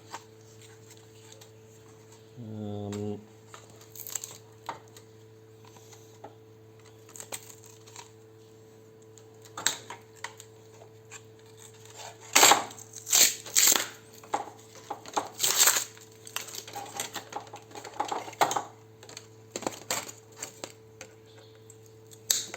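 Burnt copper scrap is peeled off a stainless steel cooktop with intermittent crunching, crackling tears and a few sharp snapping bursts over a low steady hum, nearby and uneven in rhythm.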